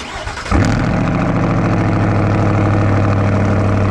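A truck engine with a repaired exhaust turns over and catches at once, then settles into a loud, steady, rumbling idle with a deep exhaust note, close by.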